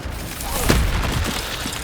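An Incendio fire spell bursts out in Hogwarts Legacy with one loud whooshing boom, followed by a fading rumble and smaller crackles.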